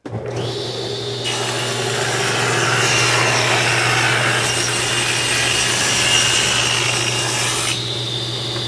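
A saw cuts steadily through wood in a woodworking shop, one continuous loud rasping stroke lasting several seconds over a low constant machine hum, with no voices.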